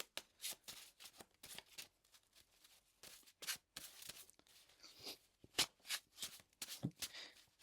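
Tarot cards being shuffled by hand, a series of soft irregular riffles and papery flicks with short pauses between them, close and fairly quiet.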